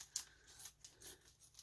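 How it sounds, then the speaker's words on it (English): Scissors snip through a sealed plastic bag holding an old comic book, giving a few faint, quick crinkly cuts and rustles at close range. "I had to get some scissors because this is sealed in a plastic bag. I have to cut it out of here."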